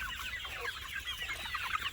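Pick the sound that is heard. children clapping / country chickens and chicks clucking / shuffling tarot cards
country chickens and chicks clucking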